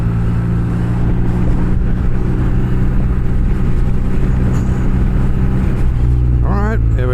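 A car engine swells and passes close by a 2023 BMW R nineT motorcycle on a road, its steady loud drone mixed with the motorcycle's own engine and rushing wind throughout.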